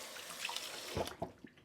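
Tap water runs into a kitchen sink while hands are washed after cooking, a soft steady splash and trickle with a few brief, slightly louder splashes near the end, heard alone.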